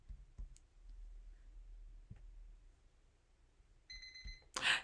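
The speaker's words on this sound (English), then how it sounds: "Timer!" A kitchen timer goes off near the end with a short electronic beeping alarm, after quiet scattered clicks from a craft table.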